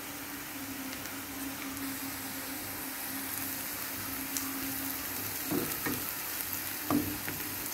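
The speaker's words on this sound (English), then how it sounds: "all together fry in the oil, green chilli, chopped ginger garlic" Green chilli, chopped ginger and garlic frying in oil for egg masala, a fairly faint, steady hiss and crackle with a few louder stirring knocks near the end, close by.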